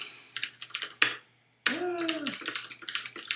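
Rapid clattering keystrokes on a Mac computer keyboard, fast and irregular, with one brief pause midway before the typing resumes.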